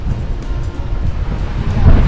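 Surf surges and sprays at the Nakalele Blowhole on Maui, a loud, continuous wash of ocean water with wind buffeting the microphone and a heavier burst building near the end.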